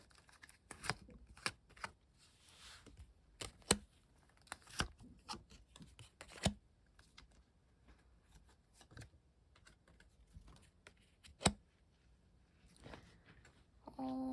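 Cards being shuffled and drawn for a tarot-style fortune reading about a past breakup, giving scattered soft riffling and sharp isolated slaps and taps at close range, with quiet gaps between them and no voice.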